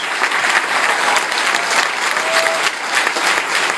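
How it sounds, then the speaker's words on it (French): Loud, dense applause from a conference audience fills the room for the whole stretch, a steady wash of clapping with no spoken voice. "Applaudissez pour le timing qu'on le voit en ce moment."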